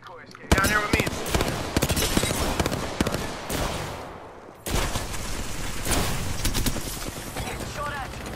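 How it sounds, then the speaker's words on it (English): Rapid gunfire bursts in an Apex Legends match, dense overlapping shots in two long volleys with a short lull between, loud and close over game sounds. "Getting shot at."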